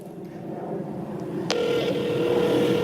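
A call being placed from an iPhone on the Verizon network: a short keypad-style tone, then a steady electronic tone that starts about halfway through and holds to the end.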